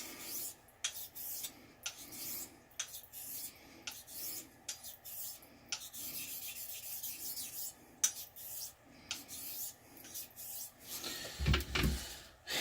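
A steel blade being honed on an Arkansas finishing stone, giving soft, repeated rasping strokes in a steady back-and-forth rhythm, close and quiet, with a louder knock near the end.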